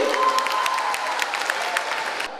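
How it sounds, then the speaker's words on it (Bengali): Audience applause at an SSC graduation reception ceremony in Mirpur, a dense steady clapping from a crowd that continues for about two seconds and then cuts off abruptly. "আমরা করতালি দিয়ে স্যারকে অভিনন্দিত করি"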